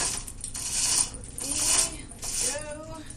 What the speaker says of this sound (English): You go around a couple of times, and using a banding wheel is a really good idea.